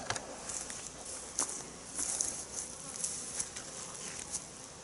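Honeybees buzz around a beehive in an autumn apiary, a steady, close, hissing drone with scattered louder passes of individual insects.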